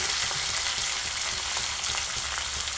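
Onion, curry leaves and ginger garlic paste fry in a pan with a steady, dense sizzle that stays loud and even throughout, with no voices.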